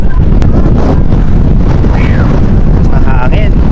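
Strong wind buffets the microphone with a constant low roar in Taiwan, while a voice speaks briefly underneath in Filipino.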